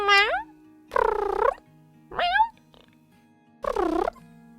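Four drawn-out, rising-and-falling cat meows come close and fairly loud, separated by short pauses, with a faint steady hum behind them.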